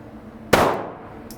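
A single sharp pistol shot fired on a range while testing a Holosun 507C red dot sight, loud and close, with a decaying tail and no talking.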